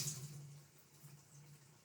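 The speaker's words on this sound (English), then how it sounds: "refresh means to put it into cold water to prevent it from cooking any further" Cold tap water runs steadily over cooked spaghetti in a kitchen sink, a soft continuous splashing hiss, faint and even throughout with no talking.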